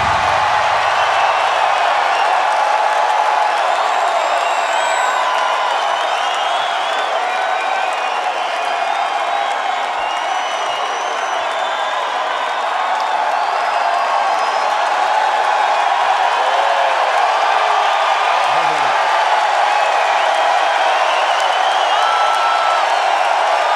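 Concert crowd at a 2006 show in Grand Rapids cheers and applauds in a steady, dense roar that holds at full level throughout, with scattered whoops rising above it.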